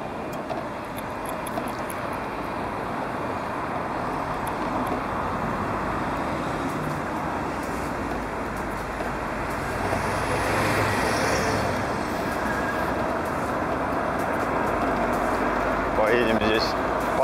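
City road traffic rolls by around a Kugoo C1 Pro electric scooter in motion, a continuous rumble of cars, trucks and buses with wind noise, while a voice talks over it.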